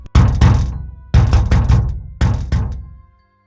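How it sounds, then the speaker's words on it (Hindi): People push and bang on a door: three separate bursts of heavy, booming thuds, each a quick cluster of blows that rings out and fades. The blows are loud and close, with no voices. "दरवाजे पर वो लोग धक्का मार रहे थे।"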